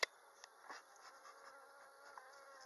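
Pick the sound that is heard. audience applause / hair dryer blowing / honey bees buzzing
honey bees buzzing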